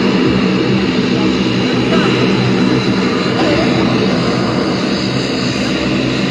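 An aircraft at Barisal airport at Rahmatpur produces a loud, steady engine roar that dominates throughout, with crowd voices mixed beneath it.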